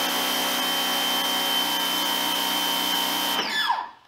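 A Giraffe Tools 1600 PSI electric pressure washer sprays hard through its 1.0 nozzle, a loud, steady motor whine with hiss that holds constant for several seconds before cutting off and winding down.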